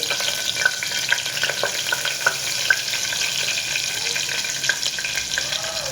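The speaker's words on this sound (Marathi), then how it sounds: "आता आपण टाकूया राई जिरं आहे" Mustard and cumin seeds sizzle and crackle in hot oil while khichdi is being made, a steady close frying hiss broken by sharp little pops scattered throughout.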